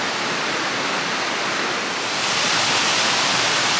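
A hillside waterfall pouring down to join the River Swale near a bridge, a loud, continuous broadband rush of falling water that swells slightly midway, heard close up.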